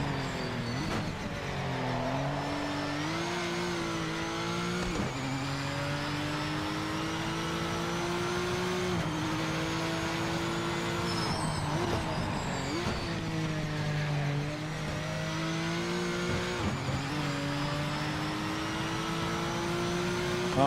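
A Porsche race car in the Project Motor Racing sim drones steadily at high revs, its engine tone climbing through each gear and dropping at regular shifts, continuous and close throughout.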